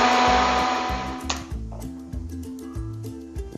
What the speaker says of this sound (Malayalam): നമ്മൾ മിക്സിയിൽ അടിക്കാൻ പോവുക.